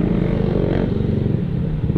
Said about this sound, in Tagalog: Si kuya talagang harurot ng harurot walang ka helmet.